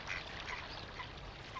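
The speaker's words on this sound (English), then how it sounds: "Ubiquitous duck." Duck quacking at a wetland, a faint, distant call set against a steady outdoor ambience of wind and other birdlife, with no voices present.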